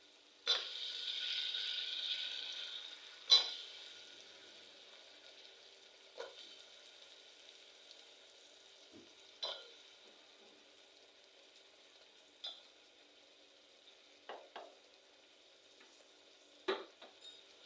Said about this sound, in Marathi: तर आपण हे थोडंसं परतून घेऊया।